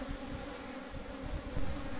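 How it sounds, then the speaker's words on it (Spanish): Honeybees swarm around a rustic wooden hive box with a queen present, making a dense continuous buzz that stays close and fairly soft throughout, with a few slightly louder swells and no voices. "Ahí está la abeja reina."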